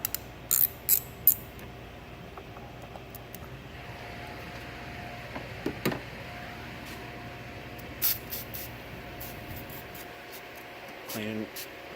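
A 10mm socket wrench loosens the battery terminal on a Chevrolet Cruze, giving a few short, quiet bursts of ratchet clicking spread across a low, steady background hum.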